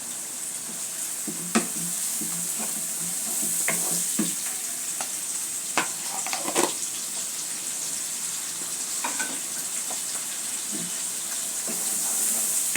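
Garlic paste being stirred in a frying pan for rohu fish curry gives a continuous hiss of hot oil broken by scattered scraping and clinking strokes of the spatula, with no talk.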